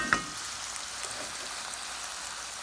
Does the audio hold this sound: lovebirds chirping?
no